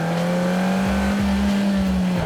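A 2018 Suzuki Swift Sport hatchback is driven hard, its engine humming steadily at high revs with repeated throttle blips and gear changes, loud and close from inside the car, with no talk.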